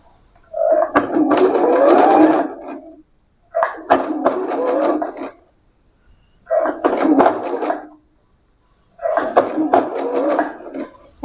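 An electric sewing machine runs stitches along straight pant fabric in four separate bursts of rapid, rhythmic clatter, each a few seconds long with silent gaps between.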